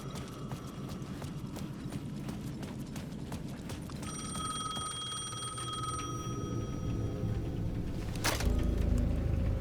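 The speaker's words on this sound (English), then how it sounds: "The payphone at the edge of the plaza was ringing again." A payphone bell at the edge of a plaza in the video game Alan Wake 2 rings in steady bursts for a couple of seconds, over a busy background of hoof-like clip-clops and ambient game noise, then a loud thump near the end.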